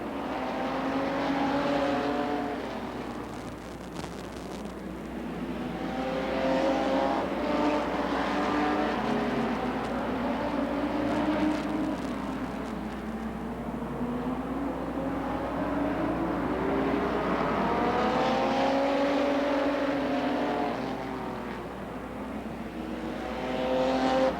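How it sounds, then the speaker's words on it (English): Jim Joyce's number 2 stock car pulling off at a CNE race, its engine a steady mid-distance drone that rises and falls in pitch across the whole stretch, with other engine noise around it. "Car number 2, that's the Jim Joyce car, is pulled off."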